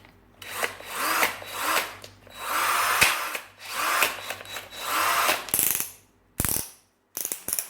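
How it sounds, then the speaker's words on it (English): Parkside 20 V cordless combination tool drilling in repeated short whirring bursts with a ratcheting mechanical buzz, close up, stopping and starting with brief gaps, no talk. "Drilling, screwing 1 to 19."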